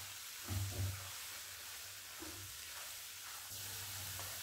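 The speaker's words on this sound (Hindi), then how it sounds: "इसे 4 to 5 मिनट्स के लिए मीडियम फ्लेम पे फ्राई करेंगे।" Grated carrots frying over a medium flame for gajar halwa, with a soft continuous sizzle and a few low scraping stirs of a spoon against the pan, faint and steady with no talking.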